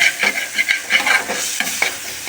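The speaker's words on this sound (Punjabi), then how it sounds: "ਤੇ ਹੁਣ ਤੜਕਾ ਜਿਹੜਾ ਆਪਾਂ ਮਾੜਾ ਜਿਹਾ ਨੂੰ ਭੁੰਨ ਲੈਨੇ ਆ" Spice tempering with green chilli and turmeric roasting in a pan, a close bright sizzle with a few quick spoon scrapes and stirs over about two seconds, no voices.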